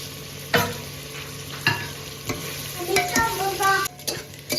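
Onions and potatoes fry in a pan for chicken tehari, a low sizzle broken by several sharp spatula scrapes and clinks as the pieces are stirred.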